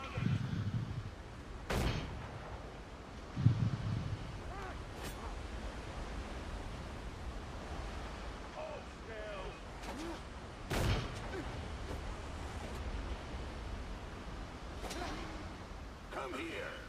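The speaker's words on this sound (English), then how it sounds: "it's that fucker that's shooting at me" Gunfire in a video game aimed at the player: a few sharp, separated shots ring out several seconds apart over a steady wash of background noise.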